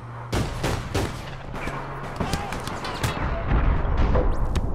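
Video game gunfire from APB Reloaded crackles in repeated sharp shots and short bursts over a busy background, with voices talking throughout.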